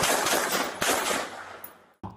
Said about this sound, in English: soon open firing.